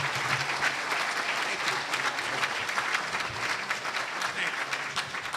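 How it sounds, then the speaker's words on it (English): Steady, full audience applause rolls on for a club's chairman and executive director at a civic luncheon, a thick unbroken patter of many hands, loud and close throughout. "How about a nice round of applause for both of them?"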